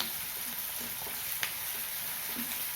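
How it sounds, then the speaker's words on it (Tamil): Curry leaves sautéing in hot oil for a village-style vanjiram fish curry, a steady crackling sizzle with occasional stirring scrapes and a sharp pop midway. "இப்போ கருவேப்பிலை சேர்த்துக்கிறேன் கருவேப்பிலையும் நல்லா வதக்கணும்"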